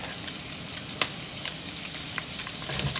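Three tablespoons of butter melt in a pan for Salisbury steak, giving a steady close sizzle and fry with a few sharp pops and crackles scattered through it, and no voices.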